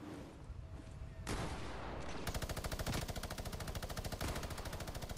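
Rapid automatic gunfire in the video game Fortnite Battle Royale rattles in a steady, fast rhythm after a burst of noise, continuing loud and unbroken to the end.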